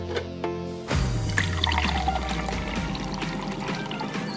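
Liquid pouring from a golden teapot into a glass, starting after a few light clinks and then running as a steady, close trickle that lasts to the end.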